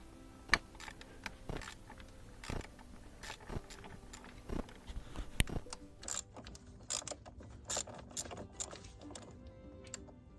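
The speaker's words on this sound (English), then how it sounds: "we got our 8 millimeter, and we're going to loosen up the fuel rail" An 8mm ratchet loosens the fuel rail bolts on a 2004 GMC Yukon, with sharp, close clicks in uneven bursts and faint metallic handling noise in between.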